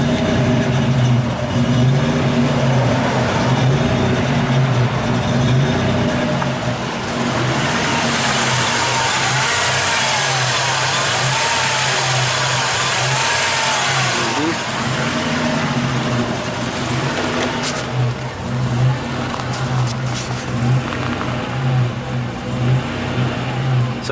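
A Buick Grand National engine running rich idles and then revs hard in a few quick throttle snaps, the roar rising and dropping loudly up close.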